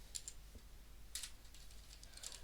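Keystrokes typing names into a file at a Linux command line on a computer keyboard, heard as faint, quick clusters of clicks separated by short pauses, with no talking.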